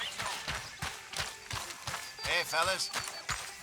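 Horse hooves clip-clop in a steady walking rhythm in Red Dead Redemption 2, moderately close and continuing throughout, with a voice speaking briefly over the hoofbeats.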